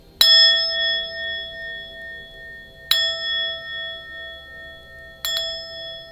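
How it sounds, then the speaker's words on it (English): A bell rung to cleanse a space gives three separate clear metallic strikes, each ringing out with a long bright decaying tone, spaced a few seconds apart in a quiet room, with the third strike doubled. "Oh, that was an extra bell."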